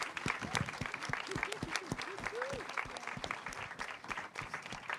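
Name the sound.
audience applause for contest candidates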